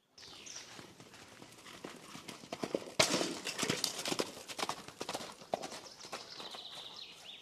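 Knights' horses walk at Bouzov Castle, hooves clip-clopping in a quiet, irregular rhythm that builds and grows denser midway before easing off again.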